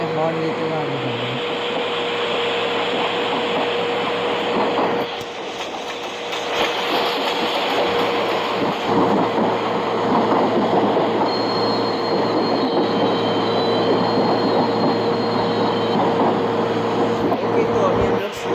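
A WAP7 electric locomotive hauls a train from Mumbai toward Vadodara, a loud steady rumble of wheels on rails with intermittent squeal and clatter throughout, a constant tone running underneath.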